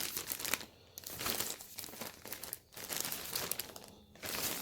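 HelloFresh meal-kit insulation packaging crinkles steadily as it is handled, a close, continuous papery rustle that swells and pauses in uneven waves.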